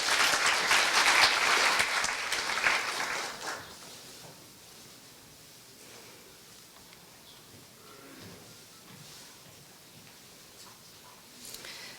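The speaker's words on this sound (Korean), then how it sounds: "박수 주십시오." An audience at a Korean traditional music concert applauds in a dense, fairly loud round of clapping that fades within about four seconds, leaving quiet room noise and faint shuffling.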